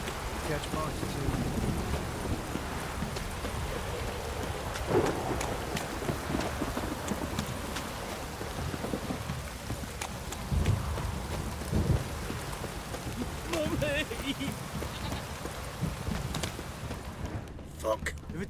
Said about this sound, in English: If it don't stop raining,